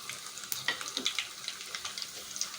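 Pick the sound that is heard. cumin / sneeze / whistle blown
cumin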